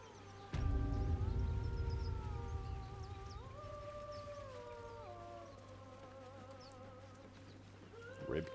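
A harpy in Baldur's Gate 3 sings in a high, wavering, siren-like voice, gliding through sustained tones over a low droning bed, steady and fairly loud for several seconds.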